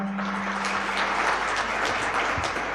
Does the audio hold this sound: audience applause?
yes